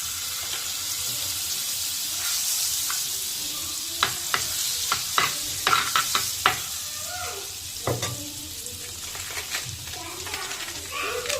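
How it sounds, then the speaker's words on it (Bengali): Steady sizzling hiss of butter in a hot wok before semolina is fried, with scattered spoon scrapes and clicks and a faint voice now and then. "কড়াইতে একটু বাটার দিয়ে দিলাম"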